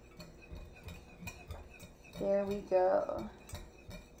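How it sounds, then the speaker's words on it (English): Juice marinade for ginger beef is whisked in a bowl, giving light, fairly regular clinks and taps against the bowl, with a brief spoken phrase partway through. "now I'm just gonna whisk this all up"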